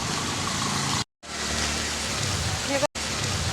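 Heavy rain pours steadily outdoors, with people sheltering under a tree, a dense close hiss briefly cut twice and a passing vehicle faint underneath.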